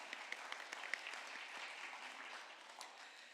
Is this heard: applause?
yes